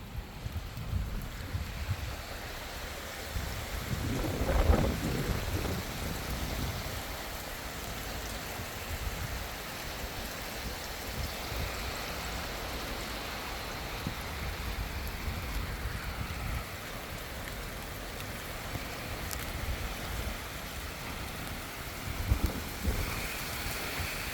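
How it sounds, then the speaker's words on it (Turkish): Heavy rain pours steadily during a strong storm in Norway, a dense continuous hiss with gusty wind and a low rumble swelling briefly; no clear thunderclaps stand out. "Birden öyle bir yağmur başladı ki."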